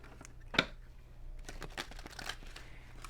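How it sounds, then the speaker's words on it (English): Tarot cards are shuffled close by, giving soft papery riffles and crinkly rustles with one sharp snap early on, quiet and without talk. "let's do two more shuffles, Spirit"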